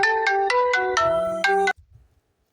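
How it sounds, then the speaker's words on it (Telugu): A mobile phone ringtone for an incoming call plays loud and close, a quick rhythmic run of bright electronic tones repeating for under two seconds before cutting off abruptly into quiet. "ఫోన్ అయితే వచ్చినాయి గైస్ మాకి."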